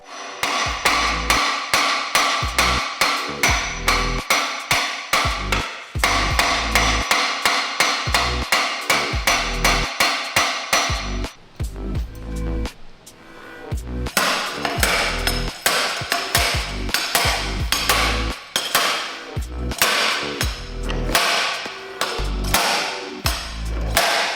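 Heavy metal hammering on Audi S6 transmission parts during a manual swap, rapid repeated blows in bursts with a brief pause midway, loud and close.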